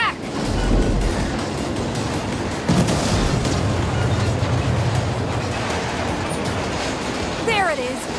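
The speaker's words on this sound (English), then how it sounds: "I'm seeing explosions all over." Explosions rumble across a Saints Row battle scene, a continuous heavy low roar with bursts near the start and around three seconds, loud throughout with a brief rising whistle near the end.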